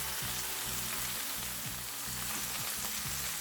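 Cabbage rolls (golubtsy) fry in a pan, giving a steady, close hiss and crackle of hot oil with a faint regular ticking underneath, no voices.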